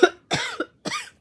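Three coughs from a woman dealing with heartburn, close and fairly loud, spaced over about a second with brief pauses between them.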